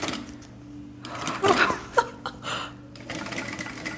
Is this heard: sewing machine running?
yes